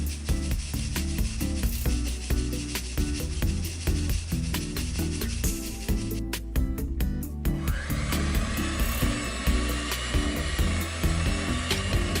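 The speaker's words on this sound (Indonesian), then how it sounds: "Kita kocok terigunya hanya sebagian yang pakai mixer supaya bercampur aja." An electric mixer whirs as it beats flour for cheese kaasstengel cookie dough. A loud, continuous motor drone carries rhythmic rattling, and the tone shifts partway through, with no voices.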